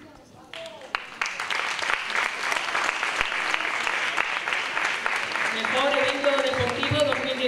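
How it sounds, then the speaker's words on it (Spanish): A crowd at a sports gala claps steadily for a local hunters' society, dense applause building and holding for several seconds while an announcer speaks over it. "un fuerte aplauso para ellos, muy merecido"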